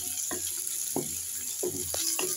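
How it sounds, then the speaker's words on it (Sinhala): Onion, curry leaves and garlic frying in oil give a steady sizzle, broken by a few short stirring scrapes. "දැන් තෙලෙන් තෙම්පරාදු කරගන්න ඕනේ"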